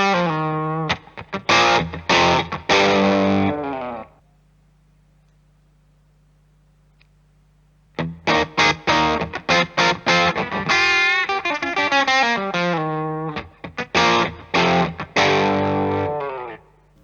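Overdriven electric guitar through a Nobels ODR-1 pedal with gain set low at 9 o'clock, mildly crunchy strummed chords and picked notes in two loud bursts around a quiet gap with only amp hum.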